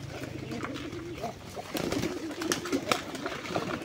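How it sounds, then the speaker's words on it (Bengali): Golla pigeons coo in repeated low, throaty rolls just after being released, with wing and body noise mixed in and a faint voice in the background. "কবুতর এটা খুলে দেবো, দেখেন পুরো একবার পাগল হয়ে যাবে।"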